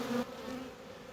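Honey bees buzz in a hive around a rhombus escape board set between the honey super and the brood box, a close steady droning hum with no talk.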